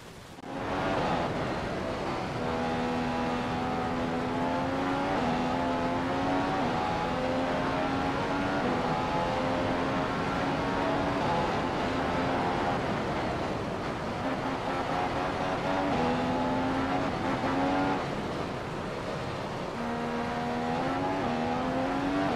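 An F1 car in the F1 2015 video game at the Austrian Grand Prix, its engine droning steadily on a flying lap, the pitch climbing through the gears and dipping at each shift, loud and continuous throughout.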